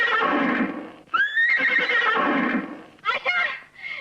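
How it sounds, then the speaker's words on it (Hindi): A wild horse neighs and whinnies loudly and close by, with a long rising whinny near the middle and shorter neighs toward the end, while a background score plays under it. "ये जंगली घोड़ा है।"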